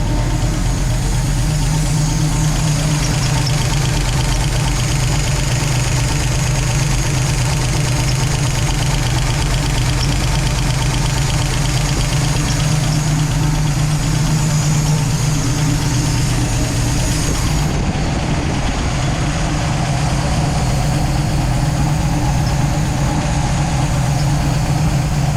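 Idling engine fitted with self-aligning rocker arms, running steady and light with a continuous low rumble and a faint ticking valvetrain rhythm throughout, close up and without speech.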